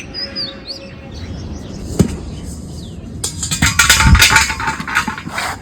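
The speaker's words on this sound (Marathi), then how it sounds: "आली इतकी कबूतर होते आजूबाजूला." Pigeons flutter and call around a rooftop where toor dal is spread out to dry, with faint chirps and wing flaps over steady outdoor background noise that grows busier toward the end.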